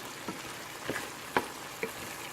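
Chicken frying in a pan as pesto is stirred in, with a few spaced utensil taps and scrapes over a soft, steady sizzle.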